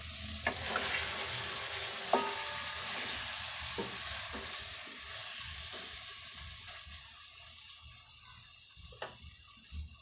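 Chicken sizzles steadily in a pot for sinigang, with occasional sharp clinks of a utensil stirring.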